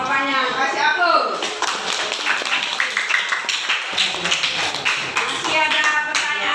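Classroom applause after a student answers a question, a dense crackle of many hands clapping that fills the whole stretch, with voices talking and cheering over it.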